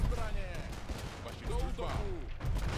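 Cannon and bombard fire booms during a siege battle in Age of Empires II: Definitive Edition, Dawn of the Dukes, with repeated blasts and battle noise under someone talking throughout.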